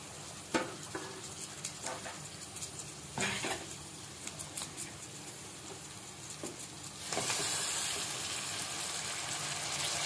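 Raw chicken pieces dropped into a hot pan of frying ginger-garlic paste for gongura chicken curry, with a few stirring clanks before a loud, steady sizzle bursts up and holds close by.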